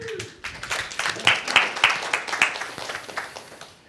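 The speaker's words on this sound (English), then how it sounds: "give these guys a round of applause" An audience at a New York Java user group meeting claps for the presenters, a modest patter of hands in a room, with a few sharper individual claps standing out near the middle before it thins out.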